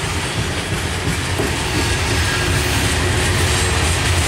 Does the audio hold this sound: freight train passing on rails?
yes